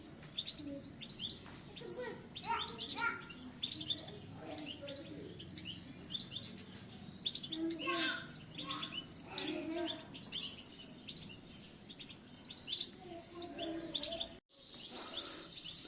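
Young Tunisian parva goldfinch chicks, about fifteen days old and just out of the nest, chirp and tweet in a busy, overlapping chorus of high thin calls close by, with a voice talking softly underneath.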